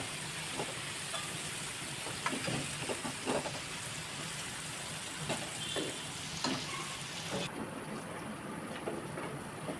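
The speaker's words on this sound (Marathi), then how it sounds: "मसाला तेलामध्ये छानपैकी परतून घ्यायचे" Red chilli masala fries in hot oil with cooked tomato and onion: a continuous sizzle broken by irregular scraping stirs, close up and with no voices.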